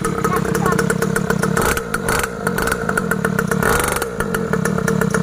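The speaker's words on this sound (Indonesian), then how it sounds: "Digas, Tang" A two-stroke mini trail motorcycle engine revs loudly nearby with a buzzing, rattling drone that rises and falls in bursts, while people talk over it.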